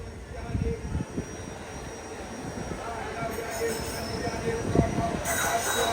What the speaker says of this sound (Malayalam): 2-ാം നമ്പർ പ്ലാറ്റ്ഫോമിലേക്ക് ഇതാ ലോകമാന്യത്തിലെ എറണാകുളം ദുരന്തോ എക്സ്പ്രസ് വരികയാണ്.